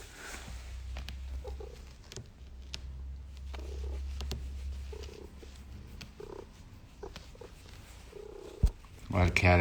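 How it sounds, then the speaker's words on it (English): A cat purrs close to the microphone in a low, steady rumble, with soft shuffling and faint voices nearby and a sudden clatter near the end. "A lot of cat action."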